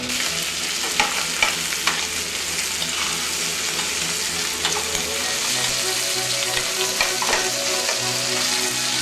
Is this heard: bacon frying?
yes